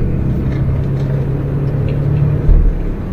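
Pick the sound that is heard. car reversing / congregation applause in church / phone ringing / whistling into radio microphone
car reversing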